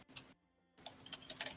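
Quiet keyboard typing at a computer, a few soft, uneven key taps near the mic with a brief silent gap in the middle.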